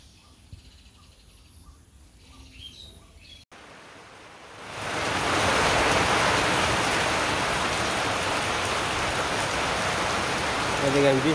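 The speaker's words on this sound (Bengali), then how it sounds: "বৃষ্টি শুরু হয়ে গেছে" Rain beginning to fall, rising within a second or two from a quiet outdoor scene with faint birds into a steady, loud, even downpour hissing on surfaces nearby.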